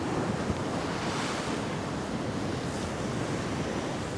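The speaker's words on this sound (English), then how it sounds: "Its waves are taking it in" Sea waves wash steadily onto a tiny beach on the Costa de la Calma in Mallorca, the water running high, with a constant broad surf roar and gusting wind buffeting the microphone.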